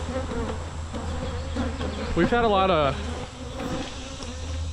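Bees swarm around grafting hives in a small bee yard, buzzing close and steadily as one insect whines right past the microphone; someone speaks briefly.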